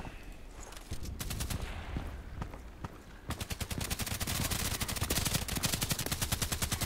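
Enemy gunfire in the online shooter Contract Wars: scattered shots at first, then from about three seconds a loud, dense rapid-fire burst of automatic weapons crackling steadily to the end.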